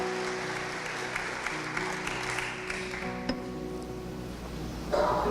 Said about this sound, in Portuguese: Aplauda o Espírito Santo de Deus.